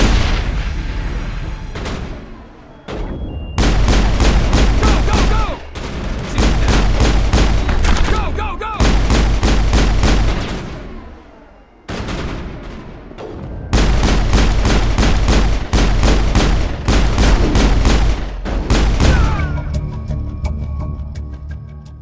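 Sustained bursts of gunfire in the Mass Effect video game, loud repeated volleys with short pauses between bursts, over a layer of game music and effects.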